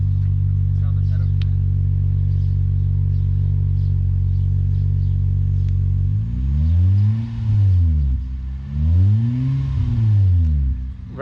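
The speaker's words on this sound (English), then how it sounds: "Rev it up pretty high." An Acura TL with an Endless RPM exhaust and J-pipe idles with a deep steady drone, then revs high twice in rising and falling sweeps, with people talking nearby.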